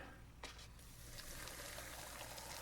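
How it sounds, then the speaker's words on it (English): Quiet, steady trickle of boiling water poured into a bowl of instant noodles, with a few soft splashy bursts early on over a low background hum. "pouring boiling water."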